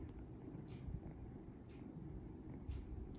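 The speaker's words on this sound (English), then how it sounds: "And he's purring right now." A Siamese cat purring while relaxed on a lap, a soft continuous low rumble that holds steady and close throughout, with no voices.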